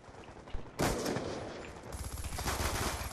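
FAL rifle gunfire in a first-person shooter private match: a single shot, then a loud, sustained burst of rapid automatic fire with echoing reports close by, with no talking.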